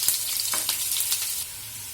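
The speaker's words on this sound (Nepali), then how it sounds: "प्याज राखिसकेपछि हामीले यसलाई 2-3 सेकेन्ड जति चलाउन पर्छ।" Onion sizzling and frying in a hot pan with light stirring, a steady high crackle with a few soft scrapes, close and moderately loud, no voices.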